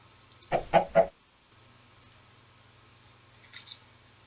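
Chickens in a video game, a quick run of three loud clucks near the start followed by softer scattered clucks and clicks over a faint low hum.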